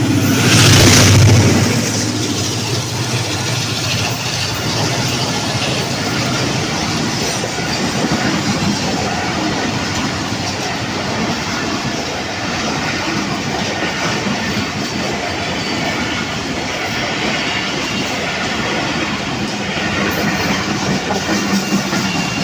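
Green Line Express passenger train racing past at high speed on a Pakistani railway line, a loud rushing roar with steady clattering wheels and a sharp burst at the start, continuing without voices for over twenty seconds.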